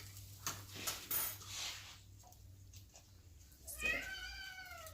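A house cat meows once, near and fairly clear, after quiet clinks of dishes and cutlery in a kitchen.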